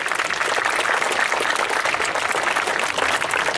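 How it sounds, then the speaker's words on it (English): A crowd at a steam fair falconry display applauds steadily, dense and loud, with the clapping holding at an even level throughout. "Give him one more round of applause, ladies and gents."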